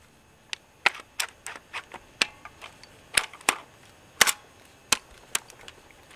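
Paintball marker fitted with a Tacamo mag feed conversion kit, dry-firing air with no paint coming out: a series of sharp snapping pops at an irregular rapid pace, close and fairly crisp, without talk.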